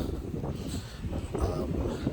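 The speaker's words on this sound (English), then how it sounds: "it is a pretty windy morning here in Wilmington, North Carolina" Wind buffets the microphone on a windy morning on the Wilmington, North Carolina coast, a continuous low rumbling gust noise that swells and eases throughout.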